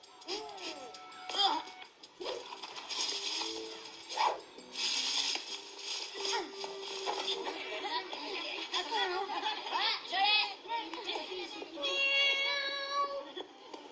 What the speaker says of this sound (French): Il y a un petit chat trop mignon dans l'arbre, il est coincé, il peut plus descendre